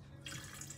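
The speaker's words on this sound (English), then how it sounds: "So we'll just pour, being a bit careful to let it catch up." Water poured into a Thermomix bowl makes a soft, steady splashing trickle, close but quiet, with no talking.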